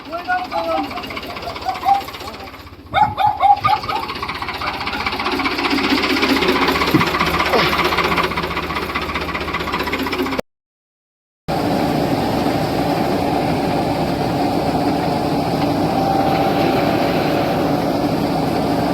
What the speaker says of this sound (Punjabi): ਤਿੰਨ ਟਰੈਕਟਰ ਪਾਏ ਆ ਇੱਕ ਫੋਰਡ ਸਵਰਾਜ